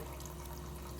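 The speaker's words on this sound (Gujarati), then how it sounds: "આમાં 1 ગ્લાસ જેવું પાણી એડ કરશું આપણે" About a glass of water is poured into a pot of dal, giving a soft, steady splashing rush that stays faint and even for a second.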